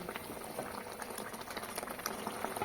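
Water boils steadily in a pan for omelette curry, a continuous close bubbling and hissing with no voices over it.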